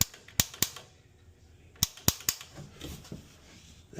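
AO Smith gas water heater's pilot igniter clicks sharply while relighting, a few crisp snaps in small clusters separated by pauses, close but fairly quiet in a still room.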